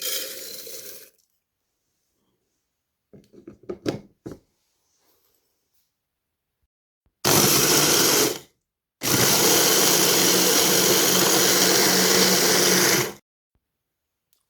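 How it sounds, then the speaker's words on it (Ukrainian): Oats being ground in a kitchen blender, in two loud continuous bursts of whirring motor noise, the first short and the second several seconds long, heard alone after a few quiet clicks and handling sounds. "Вівсянку буду перебивати в блендері."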